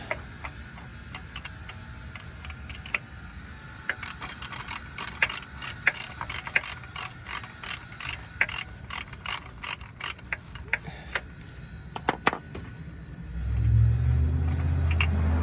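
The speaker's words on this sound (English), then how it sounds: "Let me get the ratchet again." A ratchet wrench clicks steadily in rapid runs while loosening the front engine mount bolt on a Dodge Avenger, close and crisp, ending with a low rumble.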